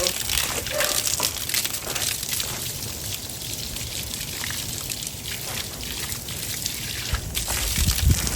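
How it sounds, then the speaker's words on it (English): Water is poured onto freshly planted blueberry bushes in dry potting soil, giving a continuous close trickle and splash with a few uneven sloshes, over a low background. "So let's just go ahead and get these watered in really quick."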